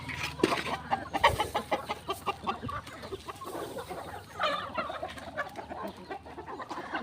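A jungle fowl clucks in short, repeated bursts among grassy scrub, fairly faint and at a moderate distance, with a soft outdoor background between calls.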